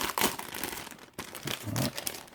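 Crinkling and tearing of thin plastic wrap as a small board game tray is unwrapped, a close, continuous rustle with sharper crackles, no talking.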